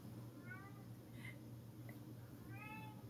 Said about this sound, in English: interrupting cat goes meow